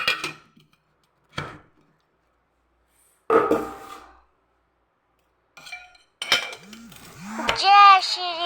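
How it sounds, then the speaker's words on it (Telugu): Dried kidney beans (rajma) are dropped into a metal pot in a few short rattling handfuls, separated by silence, with someone talking softly near the end. "రాజ్మా వేస్తున్నా."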